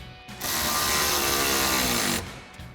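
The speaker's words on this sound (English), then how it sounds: "Now we can go ahead and grab our T30 Torx bit on our ratchet and go ahead and tighten these down." A ratchet driving a T30 Torx bit tightens bolts on a Jeep Wrangler JL soft top bracket, giving a loud, continuous burst of rapid pawl clicking for nearly two seconds before it stops, with no talk.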